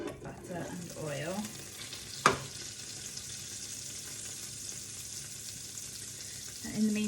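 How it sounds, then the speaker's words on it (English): Rolled balls of Christmas leftovers fry in a hot pan of melting butter and oil, giving a steady sizzle. A sharp clink of a utensil on the pan is heard, plus a little handling noise. "chuck it straight in the pan with the melting butter and oil"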